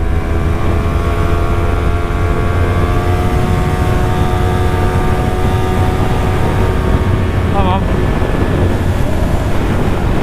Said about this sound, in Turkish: Aşırı derecede rüzgar şu an çarpmaya başladı.